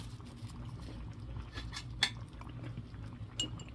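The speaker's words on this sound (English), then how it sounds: "Give our soup another stir" A spoon clinks and scrapes against a pot while stirring soup from a Spanish military individual combat ration, a few soft metallic taps with faint liquid swishing, close and quiet.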